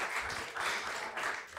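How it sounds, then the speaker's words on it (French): Brief burst of applause from a small group, steady clapping that swells and dips slightly over a second and a half, no voices. "Vous pouvez les applaudir aussi."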